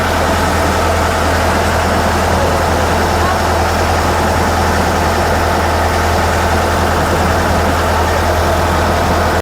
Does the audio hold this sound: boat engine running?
yes